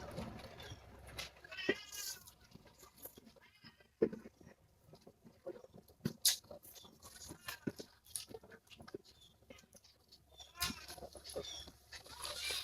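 Domestic cat meowing indoors in a Filipino home kitchen, several short meows scattered across the clip amid light household clatter.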